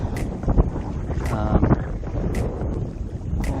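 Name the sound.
wind blowing while pedaling a NuCanoe Pursuit kayak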